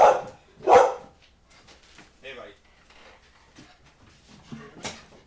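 A dog gives two loud, sharp barks close by, then a few softer yips and scuffling sounds follow in a quiet indoor room, with a brief human voice near the end.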